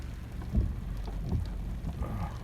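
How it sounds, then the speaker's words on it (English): Steady rain patters from inside a car with the window open, under a low rumbling background, with a few heavier drops tapping nearby. "Rain coming in my window."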